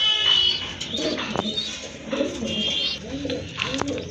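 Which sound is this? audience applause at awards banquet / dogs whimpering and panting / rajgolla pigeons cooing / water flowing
rajgolla pigeons cooing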